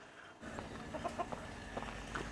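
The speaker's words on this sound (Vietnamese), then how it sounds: "gà bản địa đây các bác, chân đen." Native black-legged chickens clucking at a rural Vietnamese house under construction, with several short soft clucks scattered over steady outdoor background noise.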